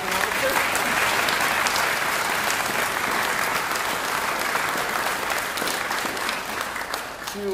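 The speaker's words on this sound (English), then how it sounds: "Would you please give some applause to our wonderful accompanist" A chapel congregation at a cantata service gives sustained, dense applause for the accompanist, a broad, even roar of many clapping hands lasting throughout.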